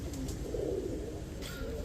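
Racing pigeons coo softly in low, throaty murmurs, one short burst standing out over a faint, steady background hum.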